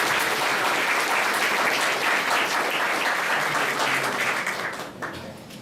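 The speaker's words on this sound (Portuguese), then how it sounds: "Então recebamos o Frei Danilo com um forte aplauso." An audience applauds to welcome a friar as a speaker at a talk on Saint Augustine, with dense, steady clapping at full strength for about five seconds before it thins out and fades.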